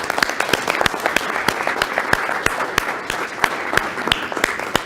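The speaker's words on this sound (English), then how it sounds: "we owe a round of applause today" A crowd applauds steadily, many hands clapping at once in a dense, continuous patter with sharper individual claps popping out, no talking.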